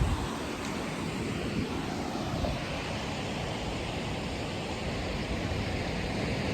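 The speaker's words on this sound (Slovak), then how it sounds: "tam je to more" Sea waves wash in steadily as a broad, continuous roar of surf with wind noise, a constant wash of sound with no clear breaks and no voices.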